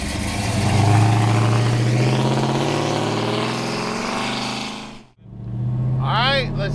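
A 1969 Dodge Charger restomod with a 528 Hemi V8 runs with a loud, deep, steady engine drone that swells slightly, cuts out briefly, then resumes with a rising whine.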